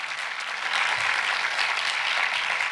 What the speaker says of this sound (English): Let's give our presenters another round of applause,